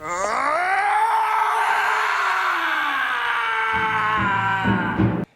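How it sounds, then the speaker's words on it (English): A cartoon character lets out one long, loud, sustained scream that rises and bends in pitch before breaking off abruptly, with a brief low thud near the end. "while the Joker laughs at the image in the mirror, Harvey screams"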